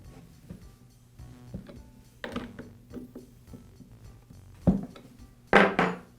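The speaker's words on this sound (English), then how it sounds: "now I'll go ahead and tighten down the bar nuts" Metallic ratcheting clicks and clanks come from a wrench tightening the bar nuts on a Poulan chainsaw during clutch repair, close and intermittent, ending in a few louder knocks.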